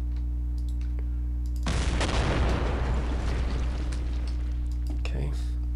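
A sudden loud burst of gunfire and explosion erupts in a WWII strategy video game, a dense rumbling roar lasting a few seconds before fading, laid over a steady low hum with a voice speaking briefly.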